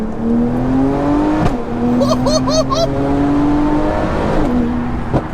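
A roughly 1100 brake horsepower car accelerates hard, its engine tone climbing steadily through repeated gear pulls with brief breaks between shifts; the engine is loud and close, with a short high whine partway through.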